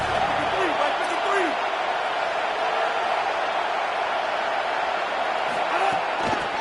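Football stadium crowd at a UCLA vs UGA game roars steadily on third down, a dense continuous wash of cheering with a few sharp claps and smacks, while a commentator talks over it.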